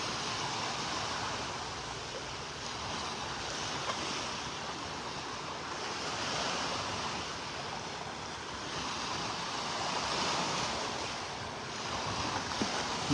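Ocean waves wash onto a beach in North Naples, Florida, as a steady broadband surf roar with gentle swells in loudness, mixed with some wind buffeting, no talk.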